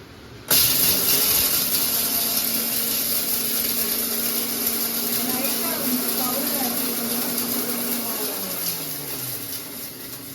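A kitchen mixer grinder grinding roasted curry leaves into powder starts abruptly and runs as a loud, steady whirring motor with a bright hiss, then winds down toward the end.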